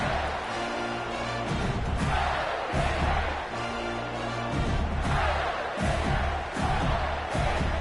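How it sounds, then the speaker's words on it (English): A home crowd at a college football game between Texas A&M and Florida roars loudly in the stadium, a dense sustained wall of cheering that surges and dips in waves. "how nice is it to have the home crowd going absolutely bananas?"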